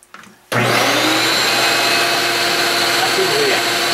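A workshop vacuum cleaner in a woodturning shop switches on abruptly after a short quiet start, then runs loud and steady with a constant motor whine that fills the space close by.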